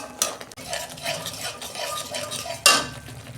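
Ground spice paste with a little salt frying in a pan, a soft continuous sizzle broken by two sharp scraping clinks of a spoon against the metal.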